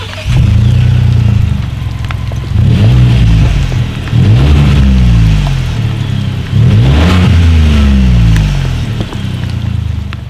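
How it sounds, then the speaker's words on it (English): 2018 Ford Expedition SUV with a single exhaust outlet, revved three times from idle, each rise a loud, deep swell that falls back to a steady rumble, recorded close at the tailpipe. "here is that exhaust clip."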